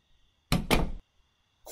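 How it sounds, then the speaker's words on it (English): A drawer pushed shut in Thief Simulator, two quick heavy thuds close together that sound like a door closing, near and alone in a quiet room. "I'm just scooting the drawer in."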